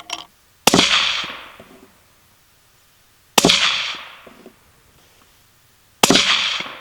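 Three loud, sharp rifle shots spaced a few seconds apart from a 6.5 Grendel Howa Mini firing 120gr Speer Gold Dot rounds outdoors, each crack followed by a fading echo into quiet.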